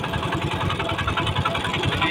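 A fishing trawler's engine running on the Padma River throbs in a steady, rapid chugging rhythm, close and fairly loud, with no voices over it.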